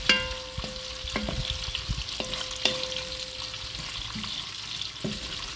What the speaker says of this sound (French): Et je vais essayer de mélanger.